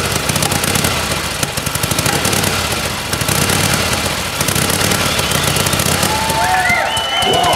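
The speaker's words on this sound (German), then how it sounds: "Noch ein paar Drehungen an den Luftschrauben und der Rennmotor läuft fast rund." A loud old Honda 750 racing motorcycle engine runs roughly and unevenly at close range with rapid popping firing pulses, the sound staying strong throughout.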